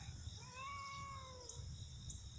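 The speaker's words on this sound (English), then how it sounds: "We have a cat that needs a name still." A cat gives a single drawn-out meow lasting about a second, close and clear, over a low steady background rumble with no talking.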